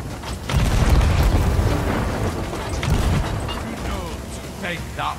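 Heavy booming cannon fire from a pirate ship's broadside in the Sea of Thieves game, loud rumbling blasts with a rolling tail, and a voice calling out briefly over the barrage.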